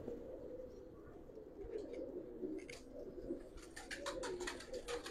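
Old-breed Giribaz pigeons in an Old Dhaka loft give soft, low cooing, joined toward the end by quick rustling flutters and a few short sharp bursts close up.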